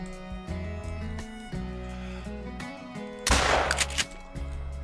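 A shotgun blast in the hunting game theHunter: Call of the Wild, fired during a wolf hunt, lands as one loud, sharp burst over steady background music, with a brief rumbling tail.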